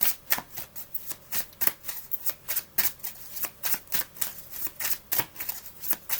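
Tarot cards are shuffled by hand in a quick, regular run of crisp riffling snaps, roughly three per second, heard up close with no talking.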